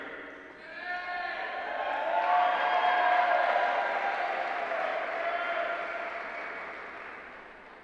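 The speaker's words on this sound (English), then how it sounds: "will now lead the class in a farewell cheer." A graduating class at a 2015 commencement gives a farewell cheer, a broad crowd roar of many voices swelling to a peak and sustaining in a large hall, loud and reverberant.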